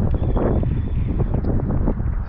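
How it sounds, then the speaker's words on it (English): Wind gusts on a riverbank during spring steelhead float fishing, a loud, close, continuous rumble of wind buffeting the microphone with no let-up. "Oh, that wind."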